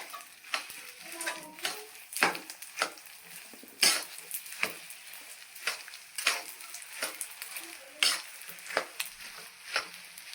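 Mawa is roasted and stirred in a pan for adadiya pak, making soft sizzling under repeated scraping strokes of a spoon against the pan, irregular and fairly quiet.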